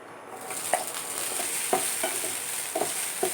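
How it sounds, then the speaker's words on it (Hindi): Paneer fries in a pan with a steady, close hiss, interrupted by several light scrapes and taps as it is stirred. "अब हम पनीर को भूनेंगे।"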